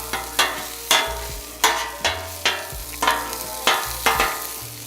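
Cajun fried rice with sausage being scooped and pushed around a hot pan, with repeated scraping strokes roughly every half second over a constant background sizzle, close and fairly loud.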